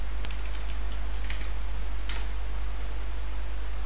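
Scattered keystrokes on a computer keyboard during a Flutter coding session, a few faint clicks in the first two seconds sitting beneath a steady low electrical hum.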